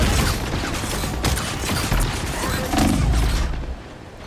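Fireworks in a video game pop and crackle in a dense run of sharp bursts, fairly loud and close, ending in a final deeper boom before fading out.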